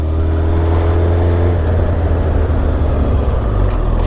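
An engine drones loudly and steadily with a deep low rumble while a motorbike is ridden at speed, the tone holding steady for a moment before shifting slightly, with no voices over it.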